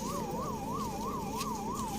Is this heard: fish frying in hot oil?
no